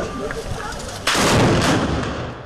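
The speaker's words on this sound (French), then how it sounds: "On fait des salves généralement devant les monuments, devant où on est reçu parfois chez des particuliers." A ceremonial gun salvo fired by marching soldiers in period uniform at a folk procession in Trazegnies, a single loud sharp blast breaking in after a moment of quiet outdoor ambience and booming into a decaying echo.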